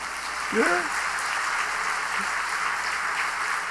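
Church congregation applauding during a Sunday worship service, an even, sustained spread of clapping across the room, with a brief voice sounding near the start.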